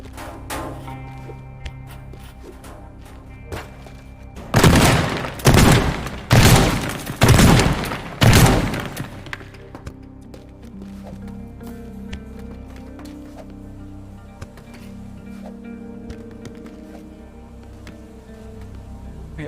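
Pipe bombs and gunfire in a demolition video game: a tight cluster of five loud, booming blasts in quick succession, standing well above a low, steady game background before and after.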